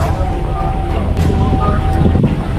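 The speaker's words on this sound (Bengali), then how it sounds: "কি বাতাস!" Strong gusts of wind buffet the microphone in a constant low roar, loud and close throughout.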